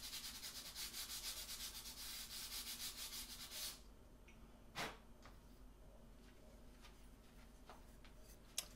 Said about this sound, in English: I'm going to take this off camera and do a little sanding